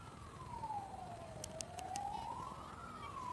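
A police siren wails with a rising and falling tone at moderate distance near a park, joined briefly by a few short electronic chirps, over steady outdoor background noise.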